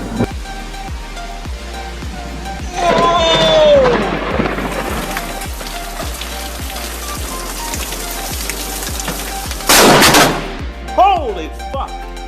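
Thunder from a lightning barrage in a storm, with sharp booming cracks over steady rain and a repeating low thump, as people exclaim loudly.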